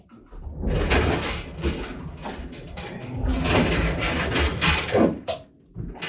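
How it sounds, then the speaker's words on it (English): Two sliding glass doors on the back of a 3 ft refrigerated bakery display case being pushed open and shut, a close rumbling glide of glass along its tracks lasting several seconds, ending in soft knocks. "two sliding glass door opens from left to right, right to left"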